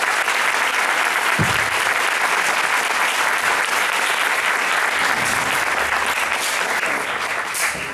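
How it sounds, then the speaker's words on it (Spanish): Loud, sustained applause from a large audience at an academic conference on addiction issues, steady and dense for the whole stretch before easing slightly near the end. "un aplauso grande para acá, para los importantes, para ustedes también"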